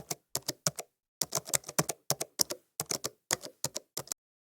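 Typing on a computer keyboard: close, crisp keystrokes land in quick irregular clusters with brief pauses between them. No voices are heard.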